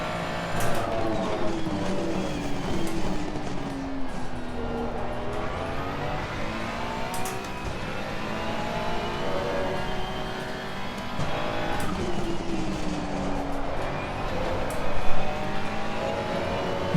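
A Ferrari 296 race car laps Kyalami in Assetto Corsa Competizione, its engine note rising and falling through repeated upshifts and braking downshifts, steady and prominent with tire scrubs mixed in.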